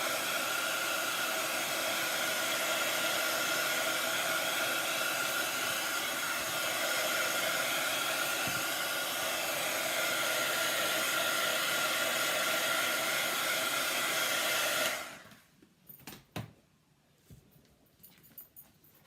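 A heat tool blows steadily to dry ink on a handmade card, a loud continuous broadband whoosh for about fifteen seconds before it cuts off, leaving a few faint clicks and handling noises.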